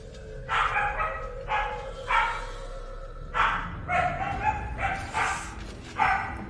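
A playing dog barks repeatedly nearby, about eight loud barks in irregular bursts with short gaps, heard alone without talk.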